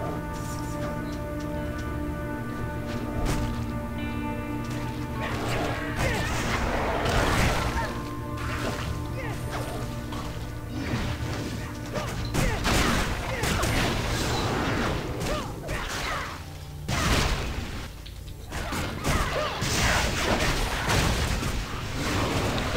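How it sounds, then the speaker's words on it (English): Sand Spectre's stone spike attack in Torchlight II brings a chaotic run of heavy crashing impacts and thuds over a droning game score, loud and dense, with players talking over it in a co-op session. "That Sand Spectre has a crazy attack. He, like, sent all these stone spikes toward me."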